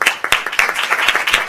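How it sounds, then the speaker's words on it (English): An audience at a history lecture at a university center claps for the speaker, close, crisp individual claps in an uneven burst that is brief, loud and free of talk. "please join me in a round of applause to Jim to get us started."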